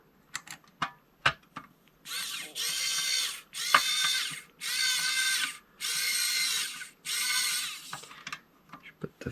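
A screw is driven in bursts while fitting a replacement board into an Ender 3 Pro 3D printer, with five close whirring runs from the driver separated by short pauses and light clicks.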